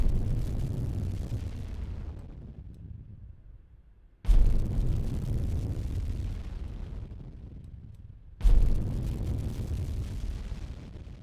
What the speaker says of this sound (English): that's pretty much the sound that I wanted to have, that kind of destruction or explosion